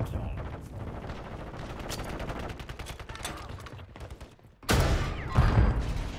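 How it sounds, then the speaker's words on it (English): Rapid Call of Duty gunfire, a steady run of close shots and bursts that briefly drops away before a sudden loud blast, with someone speaking quietly under it. "Oh, they shooting me from behind, they shooting me from behind"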